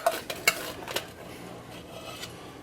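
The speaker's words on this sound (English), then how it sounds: "Stir that on up a little bit and get that mixed in." A spoon stirs white chili in a pan, with a few sharp scrapes and clinks against the pan early on, then softer rubbing strokes fading into quiet.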